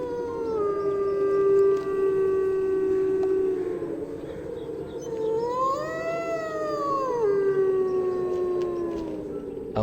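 A dog howling under a frozen starry sky: long, drawn-out wavering howls that rise and fall in pitch, fairly close and clear over a faint steady background, with no talking.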